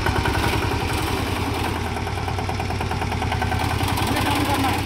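A reaper cum binder machine's engine runs steadily as it moves forward in second gear, a continuous mid-pitched chugging drone with clattering, close and fairly loud throughout with no pauses.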